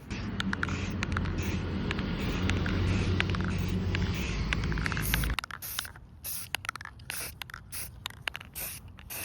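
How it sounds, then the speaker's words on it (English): A steady hiss of brown spray paint from an aerosol can onto model railway scrap loads for about five seconds, then stops, followed by light clicks and scattered handling noises. "I'm just going to spray them with this brown spray paint"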